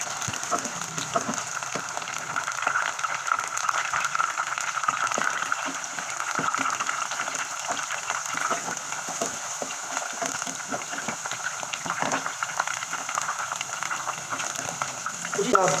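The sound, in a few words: potatoes frying in a pan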